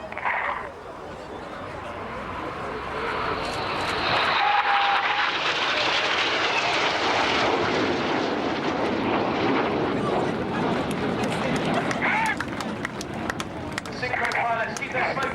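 Red Arrows display jets roar through a pass at an airshow, a broad loud jet rush swelling and sustained across the whole stretch, with crowd noise and an announcer's voice mixed underneath.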